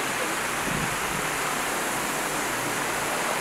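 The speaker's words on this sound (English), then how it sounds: "it's crazy, it's pouring right now" Heavy tropical rain pours down beside a hotel pool in Phuket, Thailand, a loud, dense, unbroken hiss of water close by with no voices over it.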